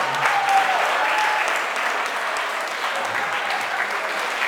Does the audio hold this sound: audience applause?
yes